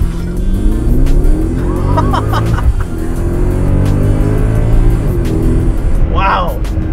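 A Mercedes-Benz R63 AMG minivan with all-wheel drive pulls away hard from a traffic light, its engine rumbling and climbing loudly from inside the cabin while people talk over it.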